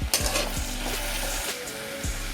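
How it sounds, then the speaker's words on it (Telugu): Onions, tomato and curry leaves frying for vegetable upma: a steady close sizzle fills the pan while a spoon knocks against it every half second or so, with no voices. "ఇందులో టమాటా కూడా వేసేసి మరి కాసేపు ఫ్రై చేసుకోవాలి"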